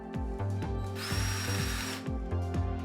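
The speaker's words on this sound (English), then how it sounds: "Drill additional holes if necessary." A power drill runs in a steady high whine for about a second, drilling holes in a storage system frame for facade installation, over a repeating rhythmic thumping background.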